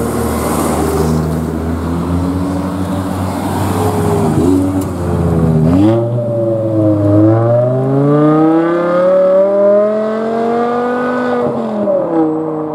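A V10 car accelerates hard uphill while leaving a cars and coffee meet at Morwellham Quay, its engine note rising loud and close as it revs through the gears and climbs steadily in pitch.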